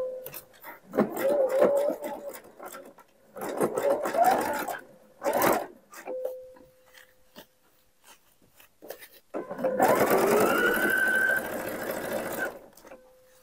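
A sewing machine stitches a bag lining in several close bursts of fast, steady whirring separated by short quiet gaps, with a faint voice in between.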